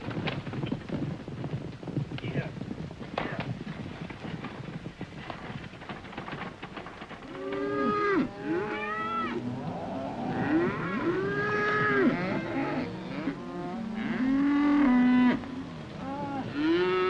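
Cattle moo repeatedly on a desert ranch in a western film, several loud drawn-out calls overlapping one another in the second half after a stretch of rustling movement and hoof-like clatter.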